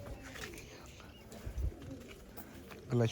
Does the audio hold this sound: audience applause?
no